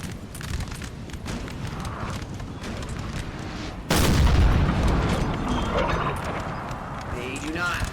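Loud booming cannon fire from an artillery battery in a Napoleon: Total War multiplayer battle, a sudden heavy blast landing midway over a continuous din of battle with galloping horses, alongside a voice talking.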